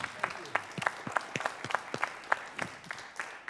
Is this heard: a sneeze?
no